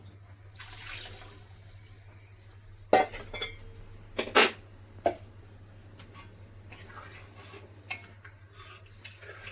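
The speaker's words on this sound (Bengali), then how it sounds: "বাটিটা ধুয়ে একটু জল দিয়ে দেবো।" A bowl being washed and topped up with water while Bengali mashkalai dal cooks, with a few sharp clinks and rattles of the bowl and short splashy bursts over a steady low hum and faint insect-like chirping.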